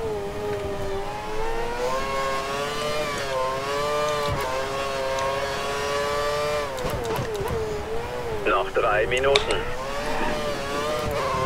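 A Formula 1 car in the game F1 2013 during qualifying at the Spanish Grand Prix, its engine whining steadily at high revs with rising and falling pitch and some gear shifts, under a voice.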